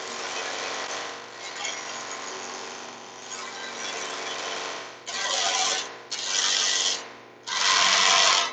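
A round carbide tip tool turns a wooden acorn on a lathe, producing a steady scraping hiss that swells into louder, rougher bursts toward the end.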